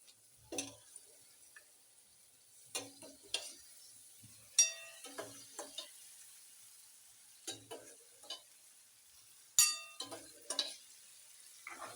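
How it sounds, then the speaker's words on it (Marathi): Cooked peas are tipped into a pan and stirred for a spicy Maharashtrian pea curry, giving intermittent scraping, clinking stirs and soft sizzles in short separated bursts, with faint talking between them. "चला टाकून घेऊया वाटाणा शिजलाय छान शिजलाय"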